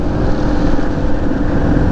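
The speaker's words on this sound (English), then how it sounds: "although I am on a motorcycle" A motorcycle cruising along a quiet mountain road near the Blue Ridge Parkway: steady, loud, broadband rumble mixed with heavy wind rush, continuous and unbroken throughout.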